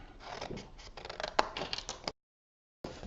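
Scissors snip through paper as small box template pieces are cut out for a mini pizza-style tea light box, a run of close, crisp cuts and rustling that stops abruptly, a short silence, then resumes.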